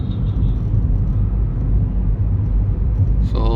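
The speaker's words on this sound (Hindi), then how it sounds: "गाड़ी अच्छे से चल रही है और बहुत अच्छे से गियर शिफ्ट भी कर रही है।" A VW Polo GT with a DSG gearbox cruising smoothly, giving a steady low engine and road rumble from inside the cabin, with a short tonal chime or whine rising at the very end.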